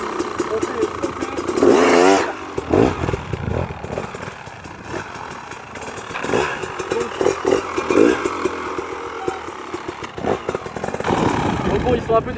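A motorcycle engine revving in short bursts, loud and close, rising and falling repeatedly between idle-like stretches, with someone talking over it at times.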